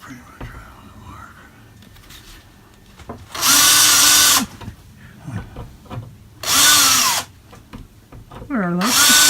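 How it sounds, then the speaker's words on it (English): Power drill boring pilot holes in the roof of a Mercedes Sprinter van, two loud sustained bursts of about a second each, close by, with quiet talk and small handling noises between them. "we're going to mark our four corners by drilling a pilot hole."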